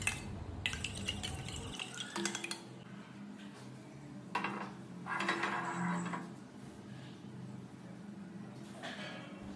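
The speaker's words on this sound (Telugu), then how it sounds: "ఇలా మంచిగా బీట్ చేసేసుకోండి పగలగొట్టిన ఎగ్స్ని" Broken eggs with turmeric and salt are beaten in a bowl for a spinach omelette, making rapid clinking and tapping of utensil against dish in steady close strokes, with brief pauses between bouts.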